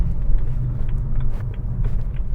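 A car goes by nearby, a steady low engine and tyre rumble that holds across the whole short stretch with no speech.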